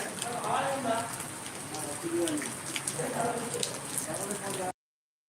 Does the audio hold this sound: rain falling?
yes